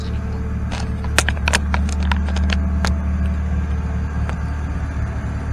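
A BMW E46 ZHP with S52 headers, no catalytic converters and almost no exhaust restriction sits idling in a deep, steady, close-up rumble, with a few light clicks and taps over it and no talking.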